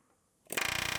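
Pneumatic air hammer fitted with a flat chisel bit striking car body panels on a rebuilt Terrain, starting abruptly after a quiet moment and hammering in a rapid, steady metallic rattle, loud and close.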